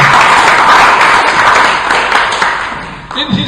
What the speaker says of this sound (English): So a big round of applause for him